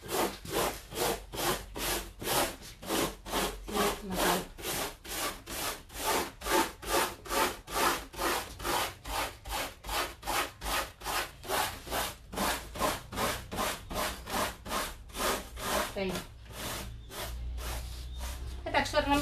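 Wooden furniture is rubbed down by hand during an antiquing restoration with milk paint, a steady rhythmic back-and-forth scraping of about two strokes per second, close and continuous for the whole stretch, slowing near the end.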